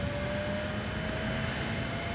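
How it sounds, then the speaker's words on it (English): Steady, loud engine roar from a helicopter hovering during a sea rescue over a pitching ship, a continuous drone with a high whine running throughout. "the noise from the engines makes the rescue even more challenging"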